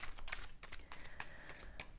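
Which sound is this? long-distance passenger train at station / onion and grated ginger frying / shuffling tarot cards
shuffling tarot cards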